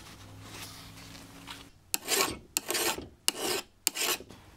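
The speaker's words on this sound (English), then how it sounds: "I'm going to take a file real quick and just make sure that that's smoothed out." A hand file rasps over a peened sickle bar on a Farmall Cub 22 mower, four distinct scraping strokes in an even rhythm, close and clear after a short quiet stretch.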